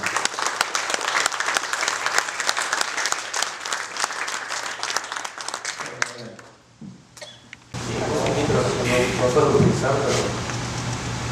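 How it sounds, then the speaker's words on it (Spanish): An audience applauds to welcome a professor at a lecture event, with loud, sustained clapping for about six seconds that fades out, followed by a brief lull and then room noise with some speech. "al profesor Omar, para quien también pido fuertes aplausos para poder empezar esta actividad"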